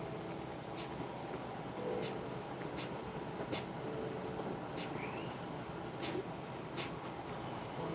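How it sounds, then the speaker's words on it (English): A small freight train passes near a house by the Tomoka River, giving a continuous low rumble with soft intermittent clanks that hold at an even level throughout. "it's a little freight train. It goes by, I don't know, 4 or 5 times a day."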